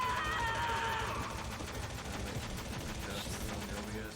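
Gunfire in the PlayStation game Metal Gear Solid, a dense, rapid rattle of shots under a tonal whine that fades early, continuing steadily throughout with faint talk in the background.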